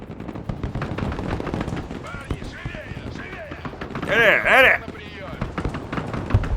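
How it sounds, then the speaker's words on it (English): Artillery and gunfire boom through the war game Broken Arrow, with scattered rattling shots and a louder blast burst partway through, all under excited talking. "Oh shit, and we're getting artillery too."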